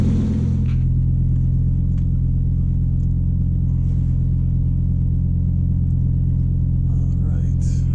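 Audi UrS4 C4 20vt with a freshly installed rear differential, heard from inside as a steady low engine and road rumble drones continuously throughout, loud and close, with a brief rise near the start.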